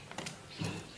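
Small screws being backed out of a Lenovo T14 Gen1 laptop's underside, a short burst of faint mechanical clicking and ratcheting from the screwdriver, close up and quiet with no talking.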